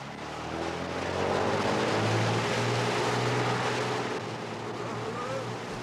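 A boat engine drones steadily and climbs slightly in pitch as it revs, with water rushing and wind noise over it. No voices are heard.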